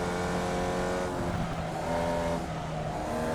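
A race car in the iRacing video game drives under a loud, continuous engine roar with faint tire noise, steady and close throughout, with no talking.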